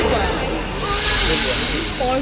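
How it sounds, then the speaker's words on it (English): A porcupine rattles its quills: a dry, hissing rattle like a mass of stiff quills shaking rapidly, continuous and close for a couple of seconds. "That is the sound of rattling quills"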